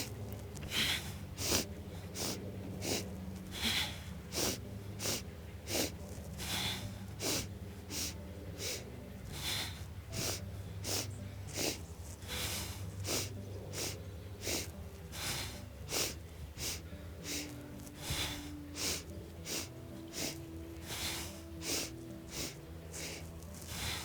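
Deep, slow yoga breaths during a three-part breathing sequence, repeated inhales and exhales in a steady rhythm, close and fairly clear, with no talking over them.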